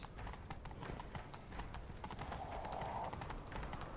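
Horse hooves gallop in The Witcher 3: Wild Hunt during a chase, rapid rhythmic clip-clop beats running continuously and fairly close, with a short whinny-like rise midway.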